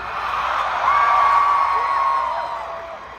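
A festival crowd at a concert at Hinterland Festival in Iowa, 2023, sending up a sustained roar of cheering with one clear whoop rising above it.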